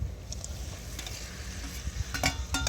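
Small fish being stirred in masala in a frying pan: a soft, continuous sizzle under repeated scraping of a spoon, with a few sharper clinks toward the end.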